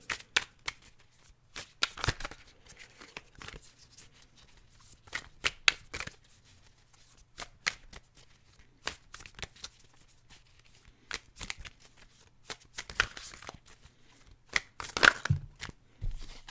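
Tarot cards being shuffled by hand during a card reading: a long run of quick, crisp riffling and slapping bursts, close and fairly quiet, with short pauses between shuffles and no talking.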